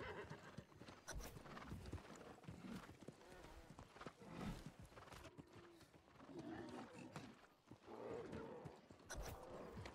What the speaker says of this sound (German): Rufen wir auch mal unser Pferd.